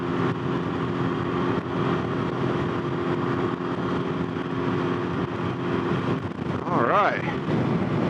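A Can-Am Ryker three-wheel motorcycle rides along with a steady engine drone and heavy wind rush, briefly rising in pitch as it accelerates, while a rider speaks a few words.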